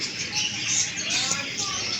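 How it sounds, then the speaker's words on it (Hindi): A flock of budgerigars chirps and twitters continuously, many bright overlapping calls close by with no pauses. "ये बेनस्ली हैं, ये ऑस्ट्रेलियन तोते।"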